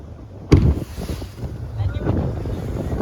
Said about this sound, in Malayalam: കാറ്റത്ത് എതിരിട്ട് ഓടുന്നത് കൊണ്ട് തന്നെ വെള്ളം നല്ലതുപോലെ അടിക്കും